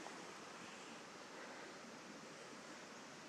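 Water rushes steadily from a creek behind a house in Martins Mill, Texas, flooded over its banks after rain, a continuous broadband roar with no breaks and no voices.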